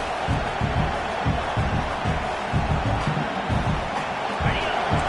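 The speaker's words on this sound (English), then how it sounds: "This crowd, full throat, splitting the eardrums" A stadium crowd roars continuously at a Missouri college football game, forming a loud, wide wash of cheering under a commentator's steady play-by-play talk.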